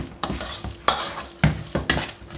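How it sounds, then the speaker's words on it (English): A sauce with crayfish and calabash nut milk gets stirred in a pot, with close wet scraping strokes every half second or so over a soft bubbling sizzle. "I add my crayfish and my Calabash nut milk. I stir"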